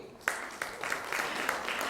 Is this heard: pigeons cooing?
no